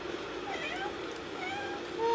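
A house cat meows in a few drawn-out, wavering calls over a low, steady background hum.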